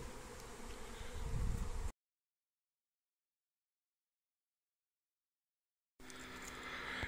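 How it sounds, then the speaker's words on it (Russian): A swarm of honey bees clustered on a roof gives off a dense, continuous buzzing hum, faint and even, broken by a stretch of total silence before the drone returns. "Я наших пчел, вон они там на крыше прилепленные, оставил до вечера."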